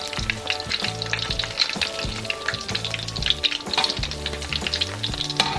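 Banana fritters (pinaypay na saging) sizzle steadily in hot oil as they are turned, with a continuous close crackle and soft clinks of a utensil against the pan.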